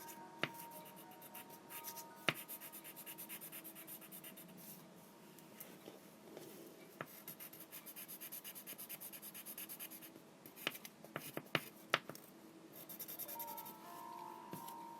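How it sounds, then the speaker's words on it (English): Colored pencils scratch and rub across paper while browns are colored and blended, a faint, close, continuous scratching with occasional sharper ticks and strokes, no voices. "I'm coloring, and I'm blending in all these browns"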